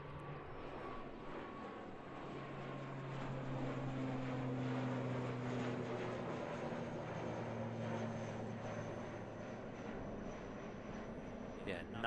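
ATR turboprop airliner departing Christchurch Airport, New Zealand: a distant, faint engine drone with a rising and falling propeller hum that swells mid-clip and fades, no talk over it.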